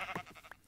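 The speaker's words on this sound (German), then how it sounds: "Guck mal, das ist aber ein Schaf." A sheep in a video game gives a brief, quiet bleat, a short wavering call lasting under a second with nothing else around it.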